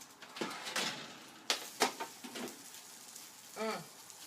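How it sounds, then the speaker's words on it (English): Chicken wings sizzle in a pan with irregular sharp pops and crackles, close and moderately loud, fading toward a softer hiss. "Do you hear all that sizzle and pop?"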